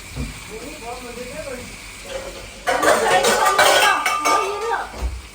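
Dishes and cutlery clink and scrape as chicken is served onto a plate at home. The clatter builds into a busy stretch of clatter under people talking nearby.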